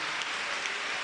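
A crowd of students at a Christian retreat claps in a steady, dense patter that is moderately loud and unbroken for about a second.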